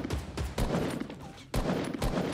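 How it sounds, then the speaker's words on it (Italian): Bursts of gunfire from another player in the Fortnite video game, several loud overlapping volleys of rapid shots with brief gaps between them, close and alone without talk. "C'è qualcun altro che ci spara"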